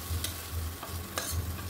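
Cauliflower florets lightly fry in a wok beside curry spices, with a close, steady sizzle. Quick stirring scrapes sound over a low background hum.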